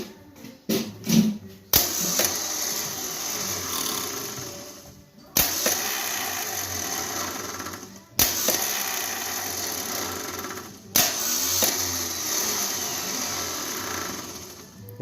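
A Mustang engine's starter and Bendix gear crank in several separate bursts with pauses between them, a close mechanical whirring grind that repeats four times.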